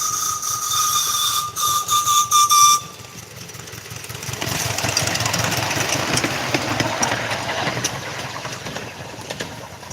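Miniature railway steam locomotive passing outdoors, its whistle sounding in a few sharp bursts at first, then the engine's rumble and chuff rising and carrying on steadily with faint bird calls around.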